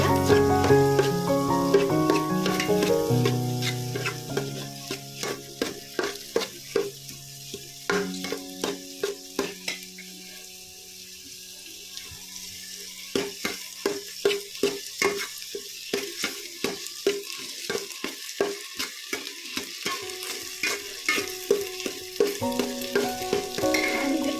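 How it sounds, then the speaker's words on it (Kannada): Rice frying in a pan for sweet jaggery rice, a steady close sizzle broken by a long run of rhythmic spatula strokes scraping and tapping the pan, quieter in the middle stretch before the regular stirring picks up again. "ಈಗ ಅದನ್ನು ಸ್ವಲ್ಪ ಮಾತ್ರ ಫ್ರೈ ಆಗಿದೆ, ಒಳ್ಳೆ ಕವ ಇರುತ್ತೆ"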